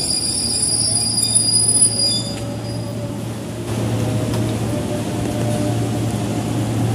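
An electric KRL commuter train passes through Jatinegara Station with loud, sustained wheel squeal over a constant heavy rumble, with no voices.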